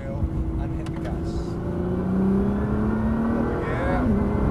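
Car engine on a race track, a BL4K racing a Nissan GT-R, rising in pitch as it accelerates hard after a corner, loud and steady, with a voice giving instructions over it.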